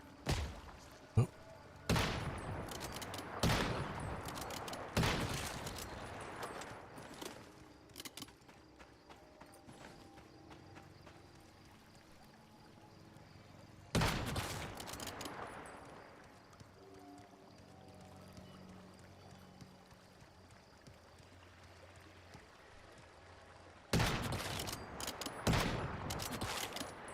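Sniper rifle fire in the video game Once Human: a few loud, sharp shots with long gaps between them. The first three come close together early, one lands mid-way and a final cluster arrives near the end, over quiet ambience.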